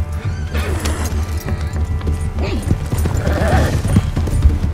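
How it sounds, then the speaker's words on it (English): Horse hooves clip-clopping in Red Dead Redemption 2, a rhythmic trot mixed with heavy game sound effects, low rumbles and crashes, moderately loud throughout. "There's my horse."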